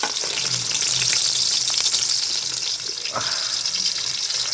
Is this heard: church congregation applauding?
no